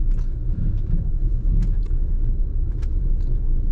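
A Fiat Toro Volcano 2.0 diesel creeps along slowly while braking by itself, heard as a steady low road rumble from inside the cab with a few faint brief squeaks.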